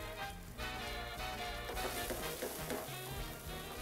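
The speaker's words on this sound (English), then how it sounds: "now we're gonna take our sauce that we made and go right into that same pan because we just wanna get it very hot" Sauce hitting a very hot pan already used for enchiladas, giving a dense, steady frying sizzle close up that runs the whole time over a bed of background music, with no talk.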